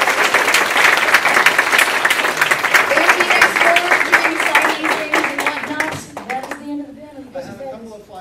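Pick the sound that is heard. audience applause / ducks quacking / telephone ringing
audience applause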